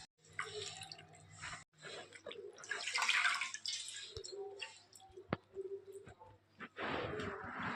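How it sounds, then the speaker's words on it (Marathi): Spinach leaves being washed in water in a home kitchen, soft splashing, squishing and dripping in uneven bursts with brief pauses, close and fairly quiet. "तर ती आपण आता स्वच्छ धुवून घेऊ"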